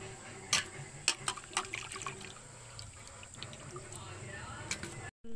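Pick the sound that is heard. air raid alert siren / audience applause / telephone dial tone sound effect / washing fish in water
washing fish in water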